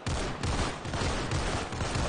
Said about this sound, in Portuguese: Ela tá sacando muito tiro, cara.